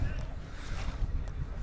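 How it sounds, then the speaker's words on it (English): Wind buffets the microphone at an outdoor baseball field, a steady low rumble with gusty swells throughout under faint background sound. "Really windy"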